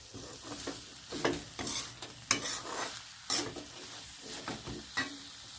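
A spoon scrapes and stirs chicken thoran with curry leaves in a pan, with repeated rhythmic scraping strokes about once a second over a low sizzle, close and fairly quiet.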